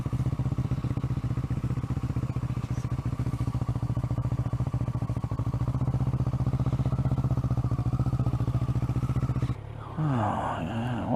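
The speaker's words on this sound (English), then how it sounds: "stop your motorcycle." A motorcycle engine runs steadily close by with a rhythmic mid-pitched chug and clatter, continuing without a break before the sound changes abruptly near the end.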